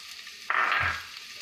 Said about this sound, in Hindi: तेल गरम हो चुका, इसमें प्याज डालेंगे।